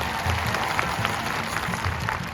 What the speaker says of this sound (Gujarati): જોરદાર તાળીઓ પાડી લઈએ